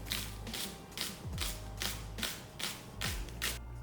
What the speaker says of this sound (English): Chop up some green onions.